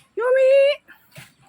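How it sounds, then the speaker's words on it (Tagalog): A dog gives one drawn-out, high whining whimper, clear and fairly close, followed by a few faint short noises; a voice is also present nearby. "Doon pala yung mga aso ko idol oh."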